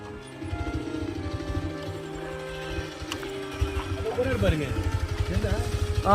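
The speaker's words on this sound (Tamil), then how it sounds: "அது ஒருத்தர் பைக்ல போறாரு அவரு" A motorcycle engine drones steadily throughout, rising a little toward the end as the bike goes by, with people talking over it.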